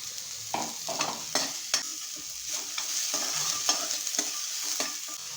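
Finely chopped onion fries with ginger-garlic paste, a steady close sizzle broken by repeated scraping strokes of a spoon stirring the pan.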